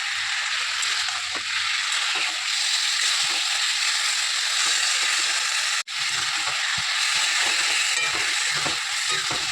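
Kochu shak greens cook in a pan with steady loud sizzling and frying hiss, broken by occasional stirring scrapes and one brief sharp dropout midway.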